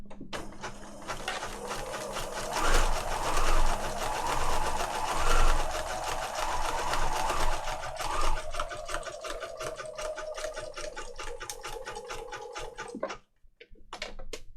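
Sewing machine running a zigzag stitch along the flap of a handmade junk journal, a fast steady mechanical whir with rapid needle ticking that rises and falls slightly for about thirteen seconds, then stops abruptly, close and alone without talk.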